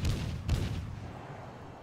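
Naval gun salvos in World of Warships: deep booming reports, one at the start and another half a second later, rolling off into a fading rumble.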